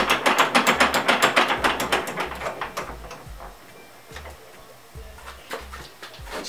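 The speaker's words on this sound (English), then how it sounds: "secure the ski with your vise." A bench vise being cranked tight to clamp a ski on its side for tuning, giving rapid close ratcheting clicks that slow and thin out into sparse ticks and knocks, with no talk.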